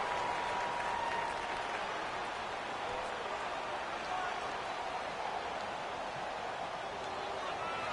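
A stadium crowd roars steadily in a PS4 American football video game as a big third down approaches, a dense, continuous wash of cheering under commentary-style speech.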